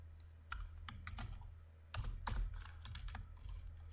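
Typing code on a computer keyboard, with steady key clicks in irregular bursts, louder clusters near the middle, over a low hum.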